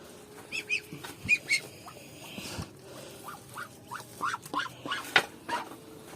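Domestic ducks quacking in short, scattered bursts, several nasal calls close by with brief quiet gaps between them.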